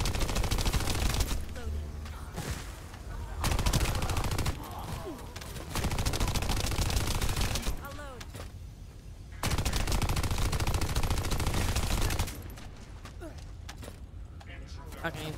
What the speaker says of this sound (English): I like this assault rifle, though.